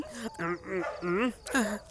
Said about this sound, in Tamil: இங்கே நாய் குலைக்குது